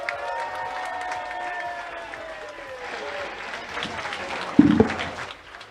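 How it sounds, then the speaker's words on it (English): Audience applause fills an evening robot fighting league event, a steady wash of clapping with tonal cheers and voices layered over it, then a louder burst of claps near the end before fading. "please give a massive round of applause for every single competitor that has come to this evening"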